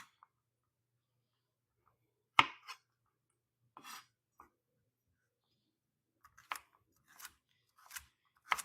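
A knife dices carrots and celery on a cutting board for soup, producing sparse, sharp individual chops separated by quiet pauses, a few clustered near the end, faint and alone.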